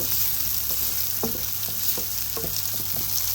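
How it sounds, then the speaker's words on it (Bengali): Onion and garlic paste frying in a pan for Brussels sprouts, a continuous bright sizzle with a low steady hum beneath and intermittent soft scraping stir strokes, close and fairly loud, no talking. "এখানে আমি এটা দিয়ে দিচ্ছি জাস্ট গন্ধটা হওয়ার জন্যে আর তো এখানে একটু ভেজে নিব"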